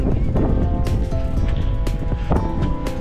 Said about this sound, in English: Keep the wind off her.